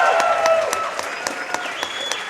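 A live event crowd at a speedrun charity marathon claps and cheers loudly and continuously, with sharp individual claps popping out through a steady roar of applause.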